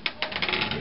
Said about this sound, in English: I'm going to re-roll that.